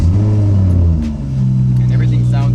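A tuned BMW 340i with a Stage 2+ setup fires up and revs, its engine rumbling loudly and dipping briefly before settling into a steady idle, with a voice speaking over it.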